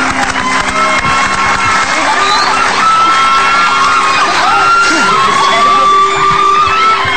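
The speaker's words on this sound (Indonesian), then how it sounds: "kita tepuk tangan buat mereka semua deh" A television studio audience cheering and whooping, a loud continuous wall of crowd noise with shouts and high-pitched yells rising over it, sustained throughout.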